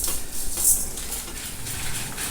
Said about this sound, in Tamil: கொத்தமல்லி வேற, கடலைப்பருப்பு, பெருங்காயம், மிளகா வறுத்துக்கிறேன்